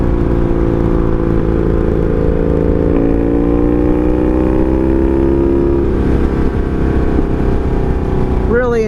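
Honda Magna motorcycle riding on a summer road, its engine droning loud and steady throughout with a low rumble and a slight rise in pitch.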